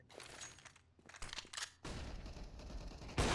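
Gunfire in a Counter-Strike wingman esports match with an AWP sniper rifle, a few sharp cracking shots and bursts followed by sustained noisy game action, fairly faint overall.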